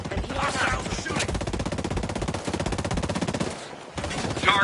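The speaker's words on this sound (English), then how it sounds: "Hostiles are shooting." Sustained automatic gunfire from hostile enemies in a shooter video game, dense rapid rattling bursts running almost continuously and loud, with a brief lull near the end.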